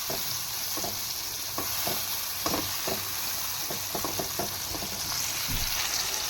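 Ground spices frying in oil in a pan for dhaba-style achari aloo gobhi, giving a steady close sizzle with intermittent scraping stir strokes and no talking.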